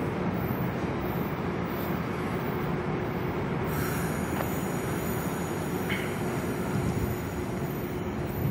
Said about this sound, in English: And then here goes this Amtrak train.